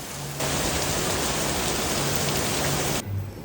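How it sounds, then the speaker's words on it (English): Steady tropical rain shower pouring down at a beach resort in Mauritius, a dense even hiss that starts suddenly and holds for a few seconds before cutting off. "rain showers are not uncommon in Mauritius"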